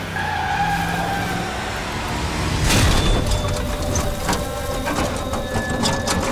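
A car speeds along with tires skidding and squealing in a movie chase scene, a loud continuous roar of engine and tire noise with a sharper surge near the middle and music-like tones underneath.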